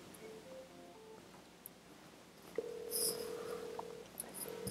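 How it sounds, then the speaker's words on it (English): A desk telephone rings for an incoming call placed through turboDial, a faint electronic tone that starts partway through and holds steady over a soft room hiss, with small clicks around it and no talking. "Phone is ringing."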